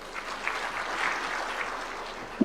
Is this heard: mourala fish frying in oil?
no